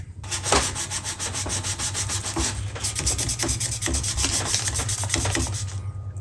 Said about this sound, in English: Oh gee, look, I'm sanding.